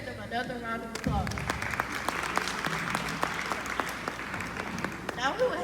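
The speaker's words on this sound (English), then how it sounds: "Let's give them another round of applause." A school audience at a Black History program gives steady, even applause that runs the whole time, with a voice speaking briefly at the start and again near the end.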